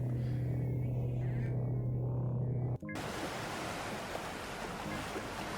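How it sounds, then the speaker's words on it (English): Ocean waves heard as ambient sound in the video game Old Skies: a steady, hissing wash of surf that takes over after an earlier low humming tone cuts off partway through, fairly quiet and with no voices. "That's a surprisingly loud ambient sound. The waves."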